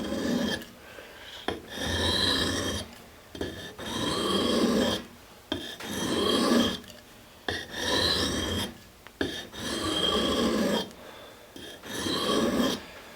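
An axe blade is worked in circular strokes on an India sharpening stone, giving a rhythmic rasping scrape in repeated bursts of about two seconds with short pauses between, close and steady throughout.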